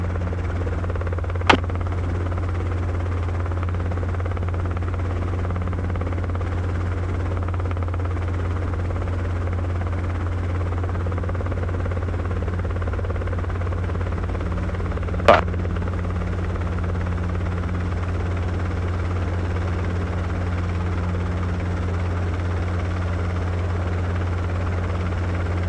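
A helicopter drones steadily and loudly throughout during low-level flying and autorotation practice, its low rotor hum constant, with two brief sharp clicks along the way.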